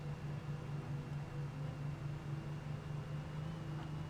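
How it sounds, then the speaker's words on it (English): A steady, low engine drone of an old truck in the video game Alan Wake rumbles continuously, rough and unchanging, like idling or cruising at constant speed. "This truck sounds like it's a little bit old."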